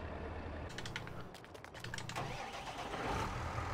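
Simulated tractor engine from Farming Simulator 19, a steady mid-range drone running throughout with faint rapid clicking layered over it, no speech.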